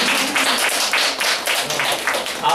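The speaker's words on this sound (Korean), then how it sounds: "좋으니까 박수" An audience claps in a burst of applause at a Korean animated film screening and Q&A for Leafie, A Hen into the Wild; the dense clapping stays steady and fairly loud for a couple of seconds.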